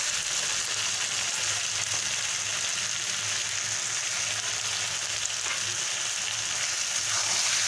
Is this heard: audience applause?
no